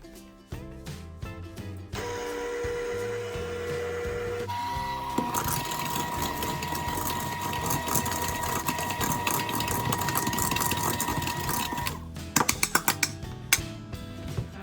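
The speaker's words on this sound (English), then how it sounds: "we are going to pull out the electric mixer. The electric hand mixer." An electric hand mixer beats Lucky Charms cookie dough with butter in a bowl. It gives a steady, close motor whir that runs for about ten seconds and shifts pitch partway through as the speed changes, followed by a few sharp clatters at the end.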